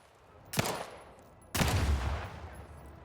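Gunfire strikes explosive objects in The Outer Worlds 2: two sharp shots about a second apart, the second followed by a louder, longer rumbling burst that lingers before fading.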